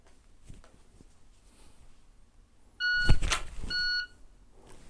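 A shot timer sounds an electronic beep during handgun draw-and-holster practice, a sharp tonal burst lasting about a second amid faint background handling noise, close and loud against an otherwise quiet range.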